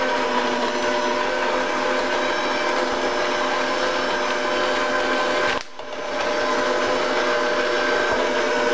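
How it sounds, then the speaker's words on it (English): An electric mixer churns peanut butter pinwheel dough with a steady, loud motor whir. The sound cuts out briefly midway, then starts again. "You're going to want to mix it for however long the mixer can take it"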